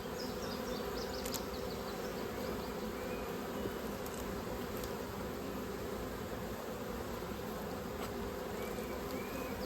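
Honey bees buzzing steadily and loud around an open hive as brood frames of eggs and larvae are lifted out and moved into a 10-frame box, a dense continuous drone with occasional soft knocks.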